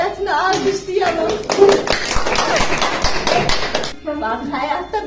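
Audience applause for a volunteer in a truth-or-dare game, a few seconds of dense clapping from a group, with a voice speaking before and after.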